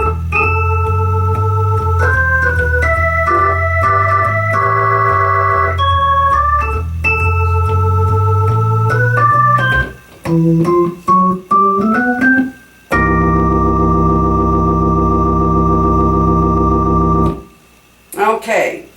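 Last eight bars of a song played with a signature big-band ending: moving melody and chords over a bass line, a few short stabbed chords, then a long sustained final chord ringing out, close, with no voices.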